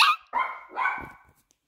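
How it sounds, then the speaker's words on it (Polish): A dog barks indoors, giving three loud, close barks in quick succession, the last trailing off into a whimpering yelp, with no talk over it. "Ucisz się, psie."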